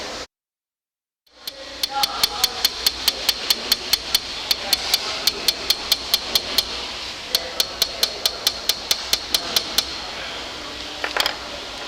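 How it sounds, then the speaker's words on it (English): A light hammer taps a metal punch to peen metal in quick, evenly spaced sharp metallic clinks, dozens in a row after a moment of silence, close and bright, with a brief pause before the last few. "Notice a light hammer works better for this type of work."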